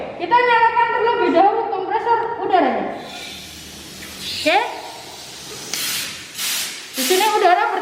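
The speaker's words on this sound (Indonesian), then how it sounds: "Di sini udara bertekanan sudah keluar" Compressed air from an air compressor sprays in short hissing bursts, repeated several times, loud and close, with a person talking between the blasts.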